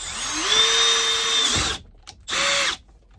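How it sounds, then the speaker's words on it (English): A power drill whines up to speed close by, bores for about a second and a half, stops, then gives a shorter second burst. "So now we're just going to drill one hole."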